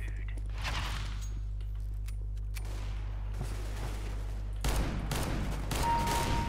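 Gunshots ring out in Counter-Strike: Global Offensive, with scattered shots and a louder volley near the end over a steady low game hum, while a voice talks in the background.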